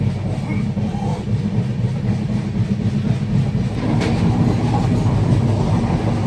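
A Super Fast Express train running from Visakhapatnam to Mahabubnagar rumbles steadily along the rails, heard from inside the carriage as a loud, continuous low roar with faint rhythmic clatter.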